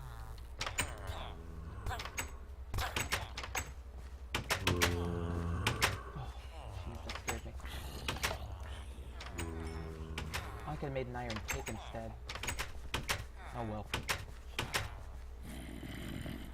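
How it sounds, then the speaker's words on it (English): Doors in the video game Minecraft open and close again and again, sharp clacks repeating in an irregular rhythm through the whole stretch while someone talks over them. "all that door opening and closing is kind of got me on edge"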